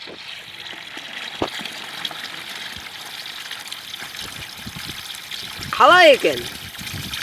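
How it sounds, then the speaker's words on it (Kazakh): A spring in a rural village in Shal Akyn district trickles continuously in a soft, steady flow, with a short spoken question rising over it near the end. "Бұл тоқтамай осылай күні түні ағып тұра береді."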